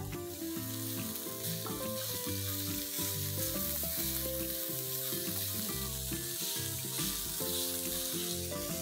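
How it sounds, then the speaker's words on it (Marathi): Chopped onion fries with a pinch of salt in a pan for Karnataka-style chicken sukka, a constant sizzling hiss running under loud background music. "याच्यात मीठ घातल्याने कसं लवकर फ्राय होतो कांदा"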